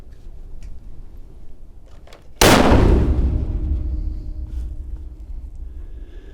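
A single loud rifle shot fired outdoors while sighting in a scope, with a sharp crack followed by a long rolling echo that slowly fades.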